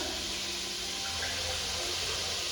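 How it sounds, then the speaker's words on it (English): A piece of tomato is rinsed under a running kitchen tap, a steady wash of water hiss that continues for the whole stretch without any talk. "Just going to wash this piece of tomato"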